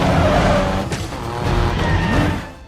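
A drift-spec Nissan 350Z sliding through a race, its tires squealing in long screeches over a roaring engine, loud and close, with a car sweeping past and fading away at the end.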